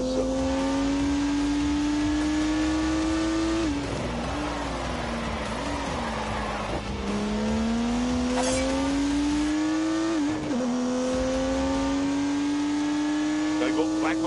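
Turbocharged 3-litre straight-six engine in a car video game, droning steadily with rising pitch as it revs through gears, a brief dip and shift near the middle, while someone speaks over it the whole time.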